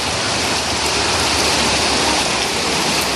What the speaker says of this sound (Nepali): बबाल पानी पऱ्यो आज त।